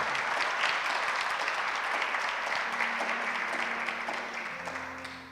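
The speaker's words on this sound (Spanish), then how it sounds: "Aplauda al Señor." A church congregation applauds in sustained, dense clapping that fills the space, then thins and fades slightly toward the end while a low sustained tone, likely an organ or keyboard, enters beneath.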